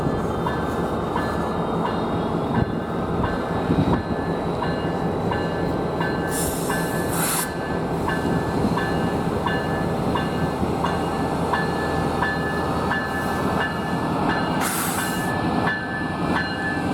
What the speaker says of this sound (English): I guess we'll film 84 departing here while we're still recording.